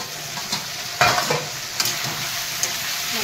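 Masala spice paste fries with a little water in a pan, giving a low steady sizzle with a few sharp stirring scrapes close by, no talking.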